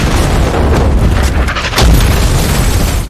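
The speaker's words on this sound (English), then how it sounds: "After the explosion" A loud, sustained explosion in a battle scene, a dense roaring boom that fills the whole clip with heavy low rumble and a second surge midway, alone without talk.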